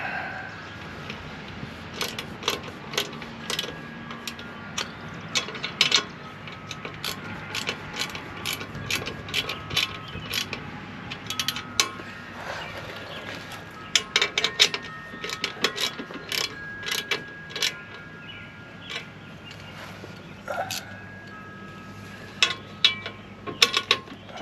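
A wrench snugs up bolts on a spare tire carrier, making repeated close ratcheting clicks in quick bursts with short pauses between them over a quiet background, and no talk.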